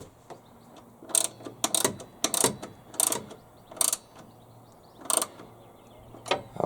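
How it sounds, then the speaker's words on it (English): A ratchet tightening four gearbox bolts on an HYM510SPE machine gives repeated bursts of fast clicking, several short runs spaced across the clip over a low steady hum, close and fairly loud. "now I can go ahead and tighten up the 4 bolts"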